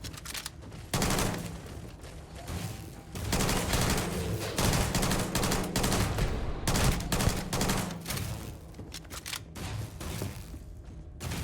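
A companion's weapon fires in the sci-fi game Starfield in rapid, sustained automatic bursts. Dense, loud gunfire runs almost without a break across the clip, with brief pauses between volleys.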